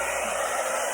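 Steady, close airflow roar of a hair dryer blowing on an acrylic paint pour, continuous and alone.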